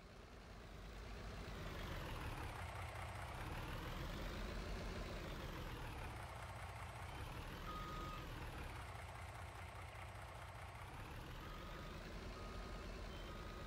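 Truck engine in Landwirtschafts-Simulator 19 running with a steady low drone while a tone sweeps slowly up and down in regular waves, continuous and even for over ten seconds, no voices.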